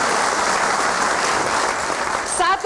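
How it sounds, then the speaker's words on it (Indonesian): Crowd applause at a televised special program in Jakarta, steady dense clapping filling the room, with a short burst of voice near the end. "Kalau mau tepuk tangan jangan malu-malu"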